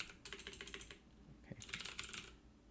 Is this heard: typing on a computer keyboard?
yes